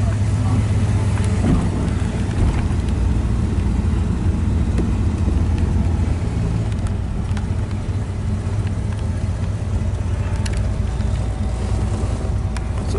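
A 1964 Plymouth Valiant Signet convertible driving with the top down: a constant low engine and road rumble mixed with heavy wind buffeting, steady throughout.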